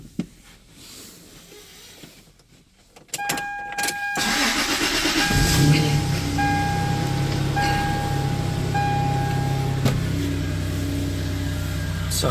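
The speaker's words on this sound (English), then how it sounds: "let's go and see if I start it up." A manual Toyota Tacoma pickup is started after a quiet pause with a brief chime: the starter cranks, the engine catches, and it settles into a steady, close idle.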